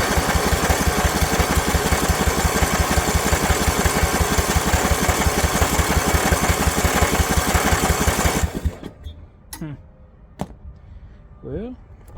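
Snapper 28-inch rear engine rider mower with an 11 HP Briggs Intek engine runs loud and steady with a pulsing beat for about eight seconds, then cuts out, followed by someone talking in the quiet.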